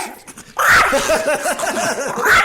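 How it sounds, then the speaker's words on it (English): A tiny yip dog makes quick, high-pitched yips and whimpering pants, close and fairly loud, with a soft vocal murmur at the start and no clear talk. "you got one of those tiny yip dogs"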